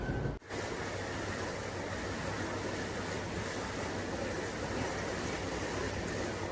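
Steady broadband rush of water and engine drone aboard a ferry crossing the Tagus River in Lisbon, continuous and fairly loud throughout after a brief dip at the start, with no voices.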